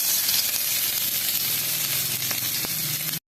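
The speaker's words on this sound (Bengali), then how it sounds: "তারপর ভেজে নেব পেঁয়াজ" Onions frying in mustard oil in a pan make a constant close sizzle with faint hissing crackle, loud and unbroken throughout, and a couple of light utensil ticks near the end.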